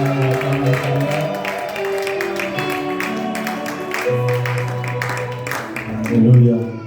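A church congregation claps and cheers in acclamation, a steady patter of hands running beneath sustained singing and a loud voice leading the worship.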